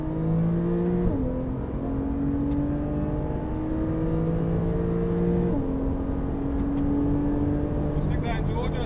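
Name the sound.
Porsche 911 Carrera engine driving on race circuit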